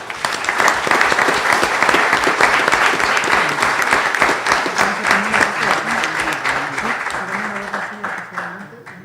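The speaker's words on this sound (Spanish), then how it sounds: "Pido un aplauso, por favor, para Sonia Mesa Morales." Sustained audience applause at a molecular genealogy conference honoring a speaker, steady dense clapping filling the room for about nine seconds, with voices murmuring underneath and a gradual fade toward the end.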